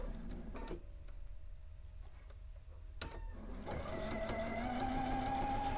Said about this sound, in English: My stitching is going right through that intersection